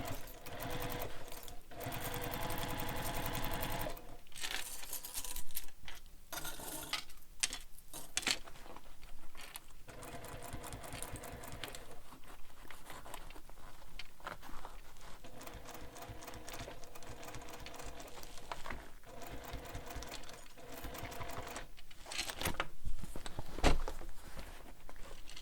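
Sewing machine stitching a curved seam on a bag, running steadily and loud for nearly the whole stretch with brief pauses and small clinks and handling noises, no talking.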